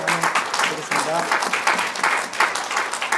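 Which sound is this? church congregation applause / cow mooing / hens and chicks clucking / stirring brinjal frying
church congregation applause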